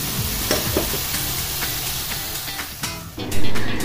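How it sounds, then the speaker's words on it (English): Soy sauce sizzles and spits in a hot pan as pancit noodles are stirred, a loud continuous frying hiss with scraping stir strokes and a sharp burst of sizzle near the end. "we're going to add, this is 1/4 cup of soy sauce"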